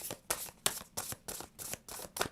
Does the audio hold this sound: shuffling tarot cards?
yes